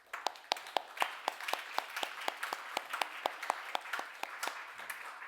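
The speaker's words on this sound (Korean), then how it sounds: "저희 박수로 환영해 주실까요?" Church congregation at a Sunday worship service clapping together to welcome a visiting pastor's mother, a steady crowd of hand claps with sharp individual claps standing out, sustained for several seconds.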